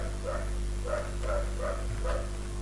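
A nearby dog barks five times in an even rhythm, each bark a short sharp yelp, over a steady low hum, with no talk.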